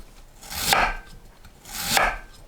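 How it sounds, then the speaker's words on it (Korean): A knife slices sweet potato into thin strips on a cutting board, two soft, close, swelling cuts spaced about a second apart with no talking. "고구마를 채 썰어주세요."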